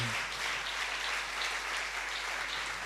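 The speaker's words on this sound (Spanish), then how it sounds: "Dale un fuerte aplauso al Señor" A church congregation applauds steadily during a sermon, a dense wash of many hands clapping throughout at an even, sustained level.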